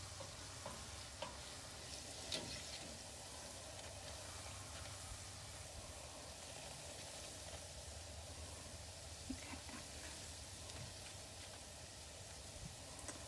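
Sufganiyot donut holes fry in a pot of oil, a dense continuous sizzle and hiss heard close up, with a few faint clicks and no talking.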